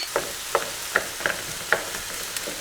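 Edamame and rice stir-fry heat through in a pan, soft sizzling under a string of light, separate clinks and taps from utensils against the cookware.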